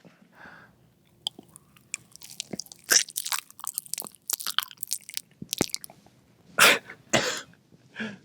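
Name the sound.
chewing close to the microphone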